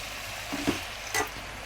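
Elephant apple pickle is sautéed and stirred in a hot pan, a continuous oily sizzle broken by two short scraping stirs of the spoon, close and fairly loud with no voices.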